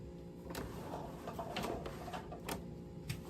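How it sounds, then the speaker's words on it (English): A serger sewing machine runs with a fast, steady mechanical whirr and chatter, with faint clicks scattered through it, heard close up at low volume. "they might want to see how the serger works"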